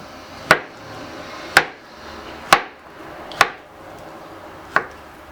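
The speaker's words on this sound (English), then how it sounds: "And then you're just gonna hold it and chop." A sharp knife chops through fruit on a cutting board in five crisp, separate knocks spaced roughly a second apart, close and distinct with faint handling noise between strikes and no speech.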